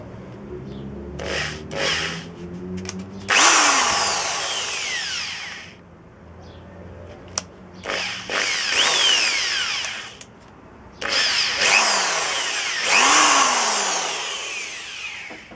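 A power drill bores bolt holes for a Weaver scope rail on an air rifle, in three bursts. Each motor whine rises in pitch as it spins up, with short quiet gaps between bursts.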